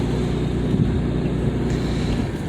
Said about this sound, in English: Now with this engine, I can't really even hear where it shifts at, to be honest.